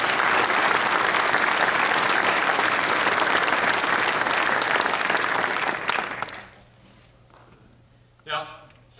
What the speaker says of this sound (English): How about a round of applause, if you would, for Jen, Maura, and all of our Navy families.